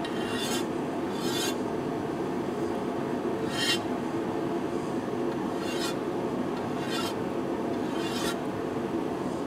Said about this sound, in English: You're just taking the burr basically off the edge of this.